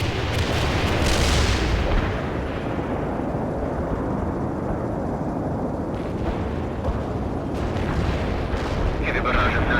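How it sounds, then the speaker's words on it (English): A heavy artillery strike in the war video game World in Conflict, a dense continuous roar of booming blasts and rumbling detonations, loud and close throughout, with a voice speaking briefly amid the barrage. "Heavy artillery strike fired."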